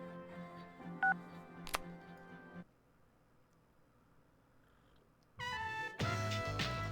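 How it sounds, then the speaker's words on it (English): A phone rings in Persona 3 Portable, a series of synthetic electronic tones and chimes with short beeps, a quiet pause, then louder tonal jingles toward the end, no voices. "Your phone is ringing"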